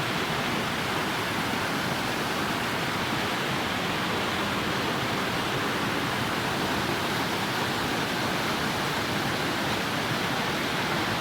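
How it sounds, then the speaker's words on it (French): Steady, dense roar of a high waterfall on the Routeburn track, a constant broadband rush without breaks from start to end. "Ça c'est une cascade que je vois depuis déjà 500 mètres au loin."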